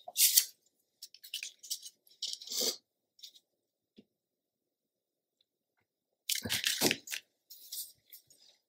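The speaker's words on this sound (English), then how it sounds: "I'm going to mark this and trim it real quick." Paper for a mini album page is trimmed in two clusters of crisp, close cutting and rustling bursts, separated by several seconds of near silence.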